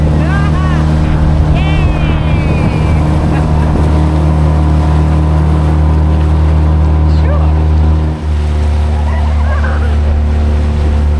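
A boat's engine drones steadily while cruising the Saronic Gulf in Greece, a loud constant low hum with water rushing past and voices talking over it.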